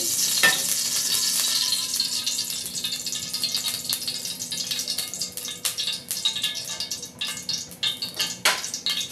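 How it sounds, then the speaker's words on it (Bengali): A spoonful of oil hits a hot wok while a vegetable curry is being cooked without water, giving a steady bright sizzle with occasional scrape and tap sounds and no talk. "কড়াটা গরম হয়ে গেছে এবার এখানে এক চামচ তেল দিয়ে দেবো"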